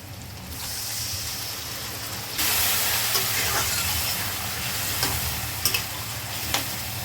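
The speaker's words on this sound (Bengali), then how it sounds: "মশলা দিয়ে ভালো করে কষে নেব" Spice paste fries in a pan for a fish curry made with taro and pomfret, sizzling steadily and hissing louder after a couple of seconds, with occasional stirring taps and scrapes up close.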